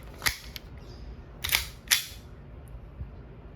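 A WE Hi-Capa T-Rex airsoft pistol fires on semi-automatic, with a few sharp, snappy cracks spaced irregularly, two of them close together, and quiet pauses between them.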